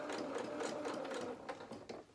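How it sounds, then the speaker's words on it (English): Sewing machine stitching fabric pieces for a highland cow doll's head, a close steady mechanical whirr that breaks into short bursts of stitches toward the end. "you'll put your next piece of fabric in and just butt it up to the other one. Do a few stitches to start there"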